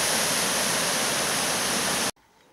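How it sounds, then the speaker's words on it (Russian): Pyshcherskiy waterfall in Altai Krai, a steady loud roar of falling water pouring into a deep pool, broadband and continuous for about two seconds before cutting off abruptly to quiet ambience. "Ну и под самим водопадом."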